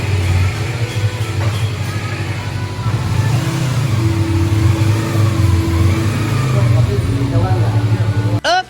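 Kawasaki MT25 motorcycle engine running during a test ride, a steady mid-pitched drone with shifting revs, loud and continuous throughout, with a brief rise in pitch near the end.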